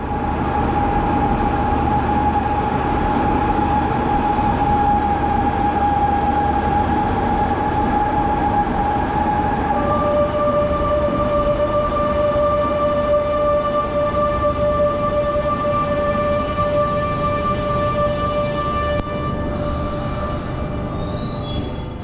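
An FGC class 213 commuter train on the line to Manresa pulls into Espanya station, giving a continuous loud rumble of wheels with steady high electric whines that shift pitch partway through.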